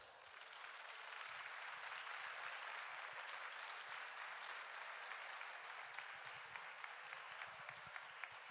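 Sustained audience applause at an outdoor concert in Ollolai, a dense even wash of many hands clapping that holds steady from start to finish at a moderate distance, with no speech over it.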